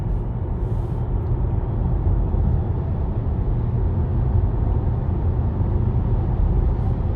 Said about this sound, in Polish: wjechaliśmy na Eskę i pokaz dynamiki w trybie elektrycznym